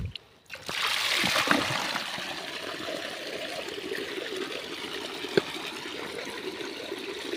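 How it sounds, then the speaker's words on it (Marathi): Water gushes and splashes into an irrigation channel beside a sugarcane field, a continuous close rushing flow with a brief splash, while faint talk can be heard at times. "मोरी जातोय पाणी"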